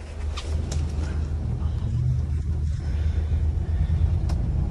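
A taxi in Bangkok rolls along with a steady low engine and road rumble inside the cabin, continuous and fairly loud, with faint traffic sounds outside.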